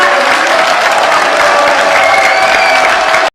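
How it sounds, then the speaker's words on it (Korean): Dense applause from a large crowd at a political rally, steady and loud for a few seconds before cutting off abruptly. "우리 힘내시라고 경품 박수로 격려 부탁드립니다"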